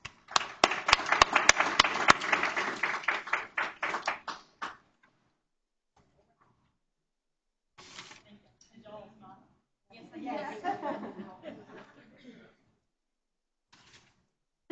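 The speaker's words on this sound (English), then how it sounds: "Let's give them one last round of applause." An audience at a board meeting applauds, a dense, steady wash of many hands clapping for about four and a half seconds before fading out, followed by quiet and then scattered talk.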